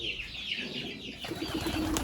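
A lakka pigeon coos nearby in a short, soft, rolling call repeated in quick succession, close and clear against faint background noise.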